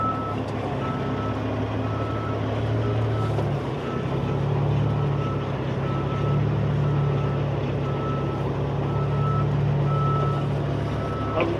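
Large truck backing up during a heavy recovery job, a steady loud diesel idle and rumble with a repeating electronic reversing beep pulsing over it, faint voices in the background.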